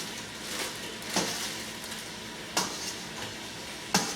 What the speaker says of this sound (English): 3 pounds of hamburger, a little bit of olive oil, and I'm just browning that up right now